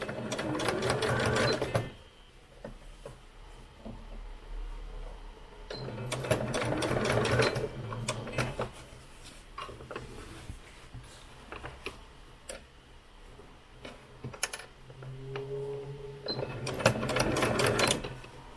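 A sewing machine stitches bias binding onto eighteenth-century stays in close, loud bursts of rapid needle chatter, with three long runs separated by quieter stretches of fabric handling and small clicks.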